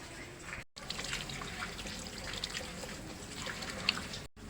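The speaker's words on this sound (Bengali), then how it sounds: "এই লাউটা আমি এবারে লাউটা প্রথমে ভালো করে ধুয়ে নেব" A young, medium-sized bottle gourd is rinsed and rubbed under running water, a soft continuous trickle and splash with faint rubbing, quiet and close, briefly cutting out twice.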